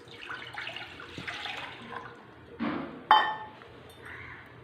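Water poured from a vessel into a pan to start sugar syrup for homemade jalebis, with soft splashing bursts, a sharp clink of metal or glass midway, and quiet kitchen clatter.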